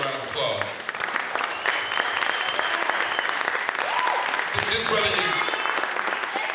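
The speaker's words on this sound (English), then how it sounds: "give his brother a round of applause." An audience applauds for Kempis Songster at a talk on Malcolm X and radical education, a sustained clapping crowd with someone speaking over it and a few shouts rising from the room.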